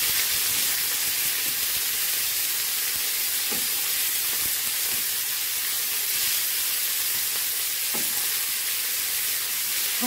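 Chicken fillet pieces hiss and sizzle steadily in hot ghee, a continuous broadband frying crackle with a few faint pops, close and even throughout, no voices.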